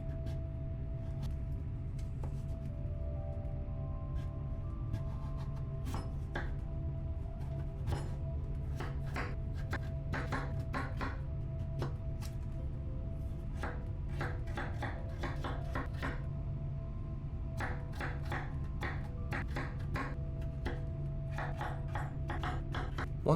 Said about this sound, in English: cut those down into cubes, again, that are roughly the same size